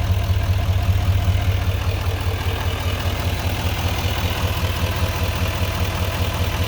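A 2018 GMC Sierra 2500 Denali HD 4x4 with a Duramax 6.6 liter turbodiesel idles with a steady, loud, low clattering rumble up close and without pause.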